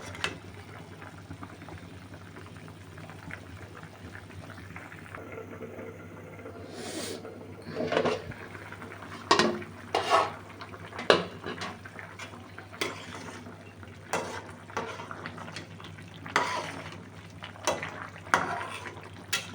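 Cauliflower and potato cooking in a pan make a soft continuous simmer and bubbling, broken by scattered clinks and scrapes of a utensil against the pan.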